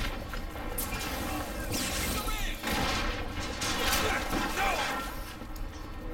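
Rapid gunfire from the first-person shooter BioShock Infinite, a dense, sustained barrage of shots and impacts layered with game effects, loud and continuous throughout.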